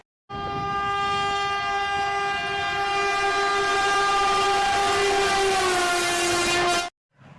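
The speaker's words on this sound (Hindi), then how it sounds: "जब ट्रेन आती है तो आवाज़ करती है प्यू प्यू" A train horn blares in a long, steady tone with rich layered harmonics, starting abruptly and holding loud for several seconds over a low rumbling of rolling cars before cutting off.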